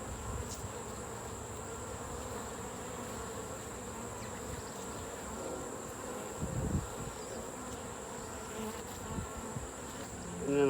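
Honey bees buzz steadily around a hive during a honey harvest, a continuous faint swarm hum with occasional closer passes and light handling bumps.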